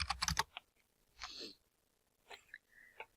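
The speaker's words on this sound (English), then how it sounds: "We're going to type in Meekley, and we're going to type in Raymond." Keys clatter on a computer keyboard as names are typed, starting with a quick run of taps and then a few scattered, quieter keystrokes, faint and close with no talking.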